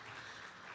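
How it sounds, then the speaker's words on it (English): Brief, faint burst of audience applause at a conference energy session, an even wash of clapping with no voices over it. "please join me to applaud for this"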